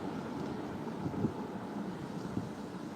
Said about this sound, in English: The wind is beautiful.